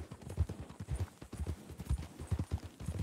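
Horse hooves clip-clop in a steady, uneven walking rhythm on a ranch in a roleplay video game, close and fairly soft, with a faint voice murmuring underneath.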